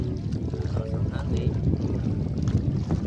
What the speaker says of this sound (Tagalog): Malakas daw ang hangin, babalik na kami.